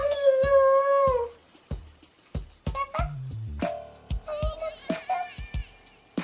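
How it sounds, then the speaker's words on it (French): Dogs barking and howling indoors, with a long drawn-out howl followed by a string of sharp yelps and whimpering barks, close and fairly loud. "mes chiens aboient. Ils aboient tout le temps."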